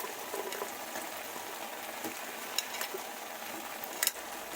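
Fried baby corn with spices being stirred in a pan: soft scraping and a faint, steady sizzle, with a few light clicks of the spoon against the pan near the end.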